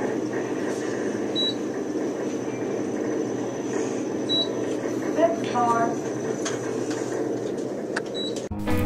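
A ventilation fan on elevator 3 in a parking garage runs with a steady droning hum and whir, joined by faint chirps and clicks, and ends with a brief knock.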